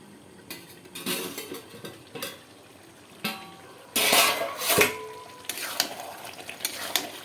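Chicken kasa cooking in a pan over low heat sizzles near the microphone while a spoon stirs and scrapes it in irregular bursts, with louder clatter around the middle.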